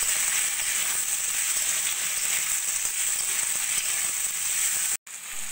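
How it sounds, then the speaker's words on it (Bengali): Potato and papaya fry with onions in a pan, giving a steady, dense sizzle up close that cuts out for a moment near the end, with no one talking. "এবার আলু আর পেঁপে একটু পেঁয়াজের সঙ্গে ভেজে নেব"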